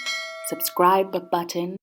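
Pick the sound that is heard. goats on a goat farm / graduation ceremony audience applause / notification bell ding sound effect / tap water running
notification bell ding sound effect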